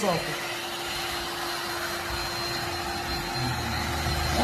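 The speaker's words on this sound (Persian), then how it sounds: "خیلی راحت، خیلی راحت سشوار میزنید." A handheld hair dryer blows a steady, loud airflow roar with a constant whine while heating window tint film on a car window, running continuously throughout.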